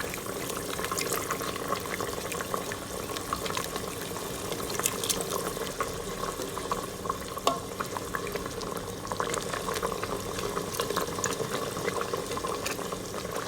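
A soy-style Chinese sauce for pork ribs bubbles and sizzles steadily in a pan as it reduces, a continuous crackling simmer with small pops, close and fairly quiet, with no talking.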